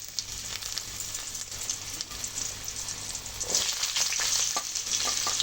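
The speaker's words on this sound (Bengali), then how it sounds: "কালো জিরা ফোড়ন দিয়ে দেবো এবার এক এক করে কুমড়ো আর উচ্ছেগুলো দিয়ে দিচ্ছি" Pumpkin and bitter gourd sizzle loudly in hot oil with black cumin, a steady close crackling hiss that swells as pieces go in, with faint stirring scrapes.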